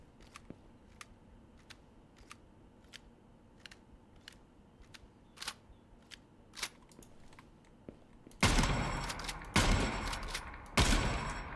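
Test-firing a gun in the video game Gunsmith Simulator: a run of faint single shots or clicks at first, then three loud, sharp, close gunshots with short echoing tails near the end.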